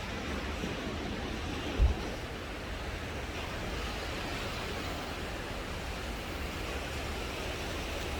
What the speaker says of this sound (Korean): 무서워, 파도가.